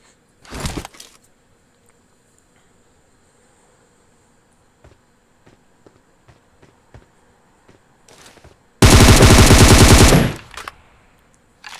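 Gunfire in PUBG Mobile on the Livik map: a short early burst, scattered faint distant shots, then a loud, sustained automatic volley lasting about a second and a half, with no voices.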